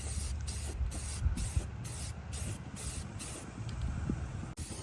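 Aerosol spray can laying light coats of paint on a stainless tool-less air filter clamp for a Hummer H1 Humvee, a steady hiss broken into short repeated bursts with brief pauses between passes.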